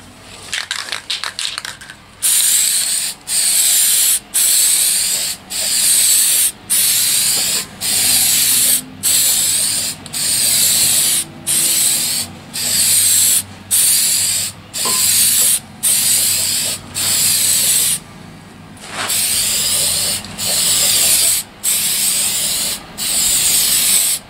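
Aerosol crack-check developer sprayed onto cylinder heads in a workshop, a series of close, loud hissing bursts, each lasting about a second, separated by short gaps, with a longer pause near the end.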